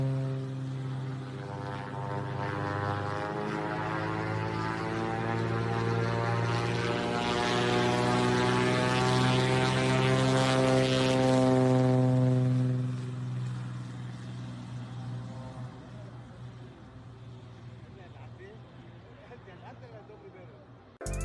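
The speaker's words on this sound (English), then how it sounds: "This plane nearly crashes during takeoff on a sloped runway." A loud propeller airplane engine roars steadily and builds during takeoff from a sloped runway, then the drone drops away and fades as the aircraft moves off.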